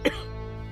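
A single sharp cough bursts out close by, followed by a lingering tonal hum.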